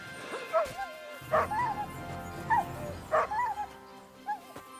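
A dog in Kingdom Come Deliverance 2 gives several short yips and whimpering barks in spaced bursts, fairly close, over a low background rumble of fighting.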